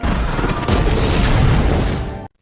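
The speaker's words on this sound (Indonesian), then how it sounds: "Helikopter yang dikemudikan oleh Amir akhirnya terjatuh dan meledak" A helicopter crashes and explodes in a giant-troll story, heard as a loud, dense, sustained booming roar filling the whole stretch before cutting off abruptly into silence.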